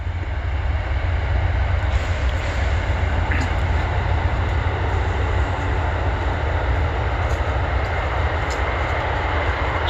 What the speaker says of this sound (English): that's the train you hear in the background, hooting and hollering and making noise